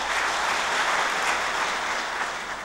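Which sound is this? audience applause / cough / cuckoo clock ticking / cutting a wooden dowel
audience applause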